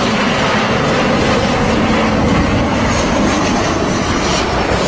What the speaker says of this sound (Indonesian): Ini pesawat Garuda Indonesia.